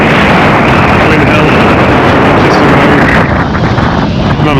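Strong gusts buffet an outdoor microphone on an exposed hilltop road near Mam Tor and Ladybower, a loud continuous low roar filling the whole clip and easing slightly toward the end.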